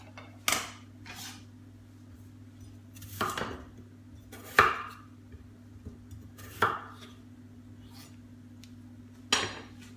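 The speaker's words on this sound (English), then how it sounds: "So that's my potatoes peeled and cut into chunks." Potatoes cut into chunks with a knife on a board, giving about five isolated, sharp chopping knocks spaced a couple of seconds apart, quiet and close over a low steady hum, with no speech.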